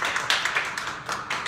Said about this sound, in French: une bonne main d'applaudissements pour toutes les personnes qui ont justement contribué à cette soirée